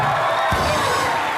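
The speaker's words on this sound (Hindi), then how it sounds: "जोरदार तालियां।" Studio audience applause and cheering on a Hindi comedy talk show, a short steady burst of clapping and whoops at even loudness with a brief low thump partway through.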